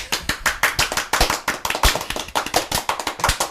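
Sharp hand claps from podcast hosts ring out in quick, irregular bursts, several pairs of hands clapping together close to the microphone with no talking.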